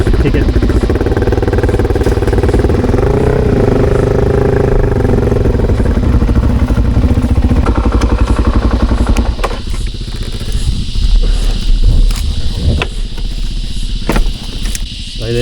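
Suzuki DRZ400 dirt bike engine idling loudly and close at a farm gate, a steady rough throb that later dips and clatters, with a voice speaking over it and insects chirping in the background.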